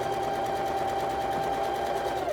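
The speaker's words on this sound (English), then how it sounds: "So we're gonna sew on the side." A sewing machine stitches quilt block fabric in a close, steady, fast mechanical whir that runs without a break and slows slightly at the end, with no talking.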